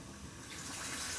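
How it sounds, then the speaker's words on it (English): Water poured into a pot for boiling potatoes, a short, close, continuous gushing splash like a tap filling a pan, alone without talk. "we need to add some more water for the boiled potatoes"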